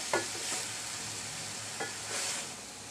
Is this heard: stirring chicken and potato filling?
yes